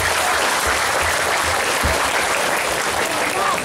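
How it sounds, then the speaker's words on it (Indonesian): An audience at an Islamic boarding school parenting session in Palembang breaks into loud, sustained applause, a thick continuous roar of clapping hands with faint low thumps beneath. "tepuk tangan buat mereka bertiga nih"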